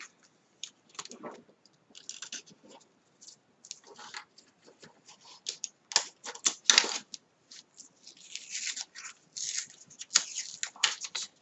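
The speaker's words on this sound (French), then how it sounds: "on va décoller proprement le papier" Paper is slowly and carefully peeled off a surface, giving irregular bursts of soft crackling and tearing with brief pauses, close and fairly quiet, with no talking.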